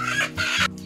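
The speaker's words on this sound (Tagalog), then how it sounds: "Ito na, may nahuli na akong manok." A native chicken, just caught by hand, gives a couple of quick close clucks in a short burst, loud and alone with no talking over it.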